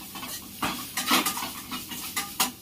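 A spoon stirring and scraping garam masala with onions as it sautés in a pan for a Punjabi-style green chilli pachadi, giving irregular clinks and scrapes over a faint sizzle.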